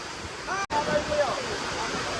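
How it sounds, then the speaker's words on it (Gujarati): A steady roar of heavy rain and gusting wind, loud and continuous, with faint voices partly audible beneath it. "તો વરસાદ જોરદાર આવે છે અને પવન એટલો આવે છે"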